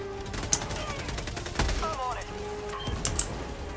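Sparse gunfire in a video game, with a few sharp single shots and short bursts scattered among clicks and game effects, moderately loud and close.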